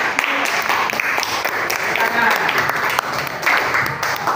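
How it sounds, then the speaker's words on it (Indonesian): A classroom of students clapping together, a dense continuous wash of hands beating in unison with some voices mixed in. "supaya semangat kita tepuk tangan bersama"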